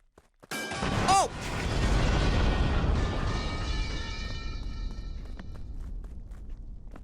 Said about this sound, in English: I do love a good fake out delayed explosion